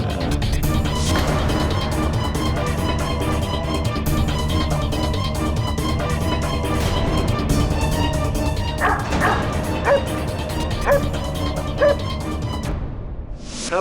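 A dog in a Hindi courtroom drama barks and yips repeatedly inside a dense, loud mix with music and effects, which fades out abruptly at the very end.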